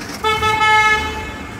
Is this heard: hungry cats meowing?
no